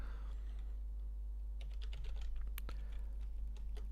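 Quiet tapping on a computer keyboard, scattered keystrokes in short bursts over a constant low hum, with no voice.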